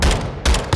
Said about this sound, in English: Couple warning shots.